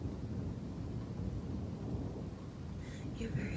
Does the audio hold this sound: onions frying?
no